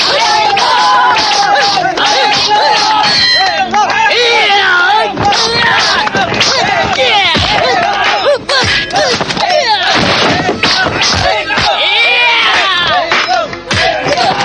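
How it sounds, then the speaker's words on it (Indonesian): Radio drama crowd at an arena: loud cheering and roaring applause from a large audience, swelling and surging continuously with shouts throughout. "Seluruh hadirin bersorak-sorak. Tepukan para hadirin yang membahana memekakan telinga."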